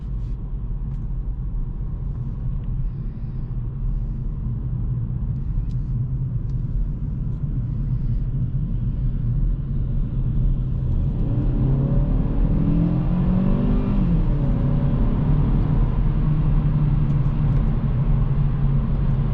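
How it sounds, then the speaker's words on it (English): A 2022 Kia Ceed's engine rumbles steadily, then revs high in sport mode partway through, pitch climbing and falling as it accelerates, loud and close with no talking. "You really have to rev it up real high, and you can actually go into sport mode"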